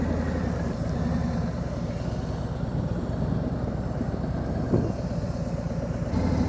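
A motorcycle engine idles in a low, steady rumble at close range, running evenly throughout without any voices.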